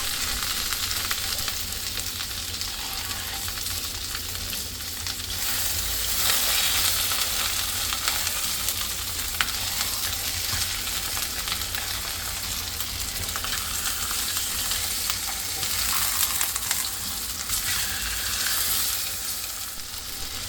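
Slices of bologna frying in vegetable oil in a skillet, a continuous close, bright sizzle and crackle with steady spitting that swells slightly midway, with no talking over it.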